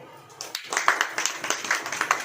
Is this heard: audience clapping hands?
yes